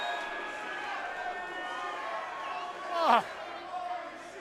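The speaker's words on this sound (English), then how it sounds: "listen to this crowd" Wrestling crowd at a lucha libre show reacting right after a ladder breaks during a Falcon Arrow spot, a dense arena roar under commentary that swells briefly into a loud burst of cheering before settling back.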